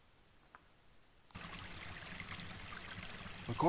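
A mountain creek on a hiking trail loop flows steadily, its rushing water cutting in abruptly after a quiet start and continuing close and even.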